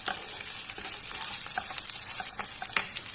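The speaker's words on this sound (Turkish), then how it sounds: "Şurada da pilavım var. Bunu da kavuruyorum." Rice for pilaf sautés in a pot, a soft steady sizzle broken by repeated light scraping strokes of stirring, with a sharper clack near the end and no talking.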